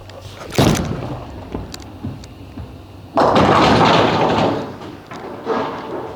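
A Storm Phaze AI bowling ball with a new 5.5-inch pin layout thuds onto the lane, then a loud crash of pins scattering, near and fading out.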